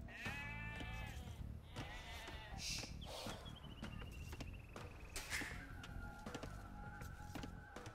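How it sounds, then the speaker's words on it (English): Sheep in Age of Empires 2 bleating repeatedly, with a few quavering calls close together, then a longer bleat and a bird-like chirp over a constant background of game sounds. "Sheep are making their way downtown."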